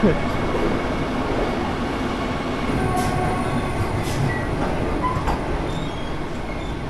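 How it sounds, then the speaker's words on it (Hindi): Sabarmati Vande Bharat Express pulling away from an Indian railway platform, a steady loud rumble of rolling cars with faint wheel squeals and clicks throughout. "आपल्यासमोर आलेली आहे साबरमती वंदे भारत एक्सप्रेस"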